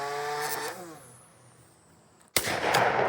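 A single sharp shotgun blast at a thrown clay target, loud and abrupt near the end, following a quieter stretch with a faint high whine from a target launcher.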